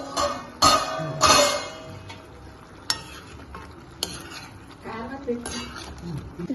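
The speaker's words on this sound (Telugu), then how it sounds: "చికెన్ ఉల్లిపాయ కలిపేసాను" A spoon stirs chicken and onion frying in a pan, making repeated scraping clanks against the metal over a soft sizzle.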